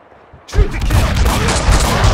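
Sustained burst of video game gunfire from Max Payne 2 erupts after a quiet half second, loud and dense with rapid overlapping shots filling the rest of the moment.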